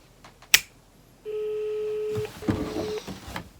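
A phone line tone on a call sounds as a steady electronic beep for about a second, then a second shorter tone follows with a sharp click before it and some rustling around it.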